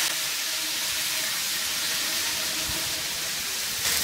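Chopped tomatoes, about two and a half cups, hit a hot pan for a zucchini borani dish, giving a loud continuous hiss of sizzling close to the mic, steady with no talking.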